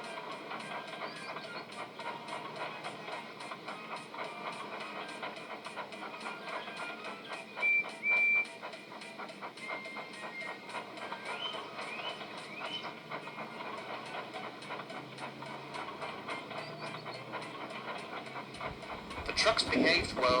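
A train rolls steadily along the rails with a continuous rhythmic clatter and hiss, fairly faint and even throughout, ending in a brief louder burst.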